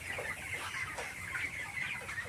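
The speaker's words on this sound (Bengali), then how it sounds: "আমাদের ব্রয়লার মুরগির বয়স 22 দিন রানিং চলে।" Broiler chickens around 22 days old clucking together on a poultry farm, a dense continuous chorus of overlapping clucks and chirps, close and fairly loud with no talk.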